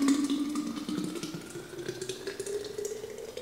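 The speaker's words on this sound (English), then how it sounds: "So all we're gonna do to finish out this hot sauce is pour it" Homemade hot sauce poured from a container into a clean half-gallon jar, a steady liquid trickle and splash close by that continues throughout, with no talking.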